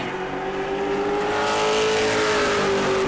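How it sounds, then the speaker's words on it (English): A pro late model race car on a timed qualifying lap at New Smyrna roars continuously at full throttle, engine pitch holding high and climbing slightly, loud and near throughout. "And we will follow those timed laps now for Kent Millage in car number 61."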